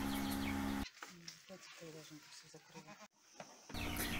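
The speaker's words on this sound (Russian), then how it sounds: "Человек-пароход Крузенштейн окатилась 3 козлятами" Newborn goat kids, two females and a male, bleat in a short series of high, wavering cries close by, set against a quiet village barn; steady louder noise sits before and after the calls.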